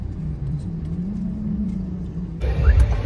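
Car traffic near a parking area, with a steady low engine hum close by and a louder rumble rising toward the end.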